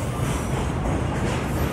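A long freight train rumbles steadily past at Parbhani railway station, a loud, unbroken roar of wagons and wheels with no break.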